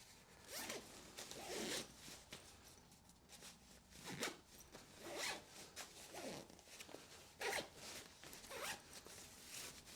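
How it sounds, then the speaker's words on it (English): A compression zipper on a fabric packing cube is pulled closed in a series of quick, raspy zips with short pauses between strokes, close up and alone. "that was by far the easiest to close compression zipper"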